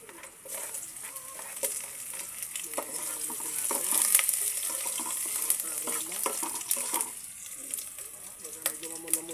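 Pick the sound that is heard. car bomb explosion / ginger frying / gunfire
ginger frying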